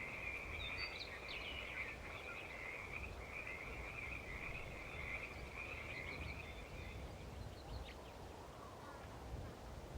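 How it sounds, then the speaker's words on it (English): Frogs croaking in water, a steady trilling chorus at moderate distance carrying on for most of the stretch before fading, over a low outdoor background hum. "There's the frogs."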